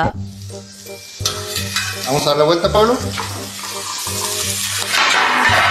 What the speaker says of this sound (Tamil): இதுல ஃப்ரை பண்ண மீனை எடுக்கிறதுக்கு ஒரு யோசிச்ச ஐடியா